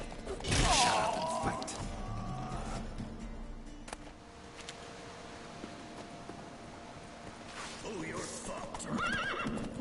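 Horses in the Witcher 3 video game neighing loudly in high whinnies at the start and again near the end, with hooves clip-clopping and thudding between, while a person talks over the game sounds.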